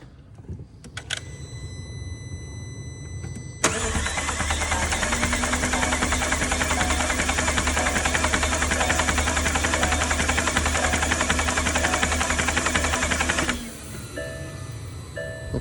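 A McLaren 720S engine on a test stand cranks steadily for about ten seconds with a dense, even mechanical whir during an oil pressure check, then cuts off.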